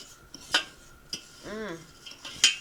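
A utensil scrapes and clinks against a pan while jasmine rice is stirred with oil, with a few separate metallic taps and one short tonal scrape in between.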